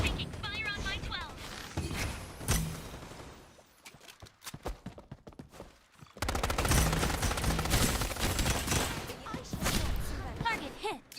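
Strinova gunfire: rapid automatic bursts crackle in a long, dense stretch, then a quieter gap with scattered shots before sustained heavy firing returns, with voices talking over it.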